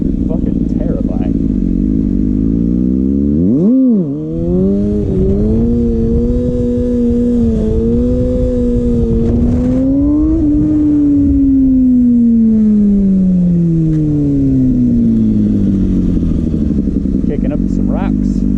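A Kawasaki ZX6R sport bike under way, its engine note loud and close with long rising and falling pitch sweeps as the rider shifts and slows. A sharp dip near the start breaks the drone, and wind roar runs underneath throughout.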